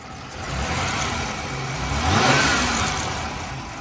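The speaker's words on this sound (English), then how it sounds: "Let's give her a couple of revs over here." A 1992 Oldsmobile Cutlass Supreme engine revs up from idle, climbing to a peak and easing back down, close by with no talking.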